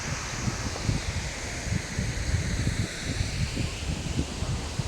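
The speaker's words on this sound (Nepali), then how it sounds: "हावा चलिरहेको रहेछ" Wind blows through the Sharjah Hanging Garden as a steady, broad rush with rustling leaves and gusty low buffeting against the microphone, unbroken for the whole stretch.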